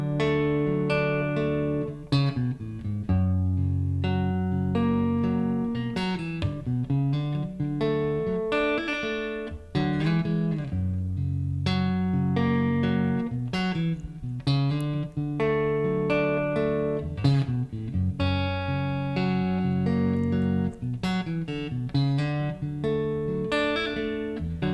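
Clean electric guitar playing a song intro, using thumb-and-finger chord fills. Arpeggiated chords and melodic picking run steadily at close range for about twenty-five seconds, with no talking.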